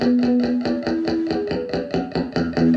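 Clean electric guitar, played without any distortion pedal, strums a steady run of evenly spaced chords with sustained ringing notes, loud and close.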